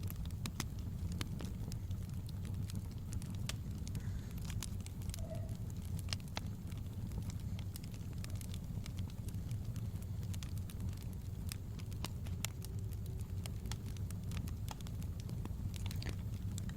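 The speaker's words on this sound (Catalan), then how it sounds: "Sents el crepitar del foc i la calor reconfortant que emana." A wood fire crackles steadily in a cozy room, sharp pops and snaps scattered over a soft continuous rumble, close and moderately quiet with no talking.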